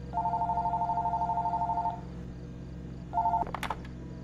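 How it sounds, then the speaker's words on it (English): An electronic phone ringtone sounds in the horror game Fears To Fathom, Woodbury Getaway: a long steady ring of rapid warbling tones, a pause, then a short second ring followed by a brief clatter. "My phone is ringing."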